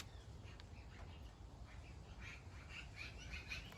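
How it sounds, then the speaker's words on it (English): A family of magpies calls in a front yard, with faint, scattered chattering and squawking calls at a distance over a low background rumble. "those birds in the background, they're magpies"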